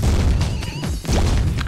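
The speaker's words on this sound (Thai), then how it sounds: "โอ้ยโดนระเบิดตัวเองตายอีกแล้ว" A bomb blast in Bomberman on PSP, a loud booming burst with a crash, followed by a short second boom after a brief dip, all dense and close.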